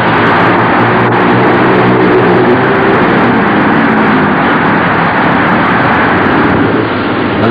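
Speedway motorcycles racing at the 1949 World Championship Final, a loud sustained roar of engines revving hard as the bikes streak past, dense and continuous with a slight swell partway through.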